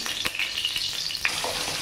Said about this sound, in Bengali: এখানে কই মাছ ভাজা হচ্ছে।